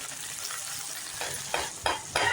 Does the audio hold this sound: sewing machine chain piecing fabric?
no